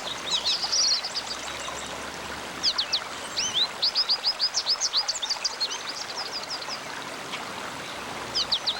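A river rushes steadily in a continuous broadband wash, with small birds chirping and trilling in quick bursts above the flowing water.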